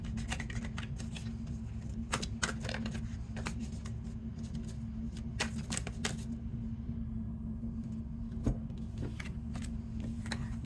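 Tarot cards are shuffled in quick, crisp riffling bursts, close and fairly faint over a steady low hum, pausing briefly between handfuls.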